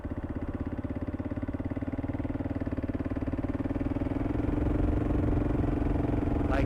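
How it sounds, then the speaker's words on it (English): A Kawasaki KLX dirt bike engine pulls under throttle in fifth gear, a close, continuous buzzing drone that rises steadily in pitch and loudness, with no voices. "The bike itself sounds a lot better, which I think is cool."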